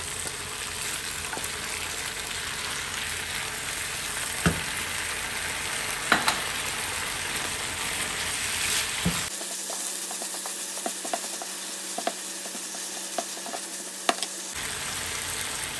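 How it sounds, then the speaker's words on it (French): Beef and onions sizzle steadily in a hot pan while being stirred, with occasional scraping clicks; the frying noise stays loud and close throughout, briefly dropping to a thinner hiss partway through before the full sizzle returns. "on vient remettre notre viande et la mélanger"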